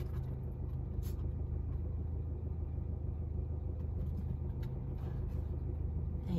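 Cars pass along a road near a trotting horse, a steady low traffic rumble with a few brief sharper sounds, fairly loud and continuous, no talking.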